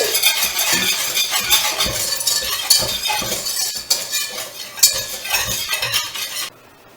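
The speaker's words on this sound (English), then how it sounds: "A half a cup of sugar, pinch of salt, and we're going to mix that real good." Sugar and a pinch of salt for homemade banana pudding are stirred briskly in a bowl. A spoon scrapes and clinks in a continuous rhythm, close and clear, then cuts off abruptly at the end.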